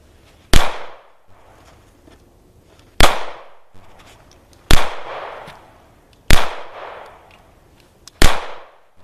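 A Sig Sauer 226 pistol fires 125 grain Hornady Steel Match hollow-point target rounds: five loud, sharp shots spaced a second or two apart, each with a short echoing decay outdoors.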